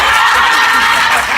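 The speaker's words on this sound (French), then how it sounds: "Applaudissez pour lui." A crowd cheers and applauds, a loud continuous wash of clapping and whoops heard up close in a short unbroken burst.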